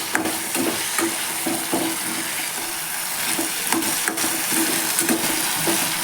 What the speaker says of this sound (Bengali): এবার এইটাকে মিক্স করে নেব